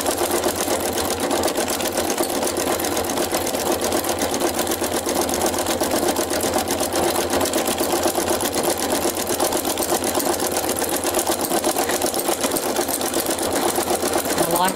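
A sewing machine stitches over painted fabric in a fast, continuous mechanical whir that holds steady and close for the whole stretch.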